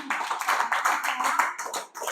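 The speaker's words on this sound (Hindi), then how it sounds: "जोरदार तालियां" Dense, continuous clapping from a crowd at a coaching class, steady and fairly loud throughout with no voices over it.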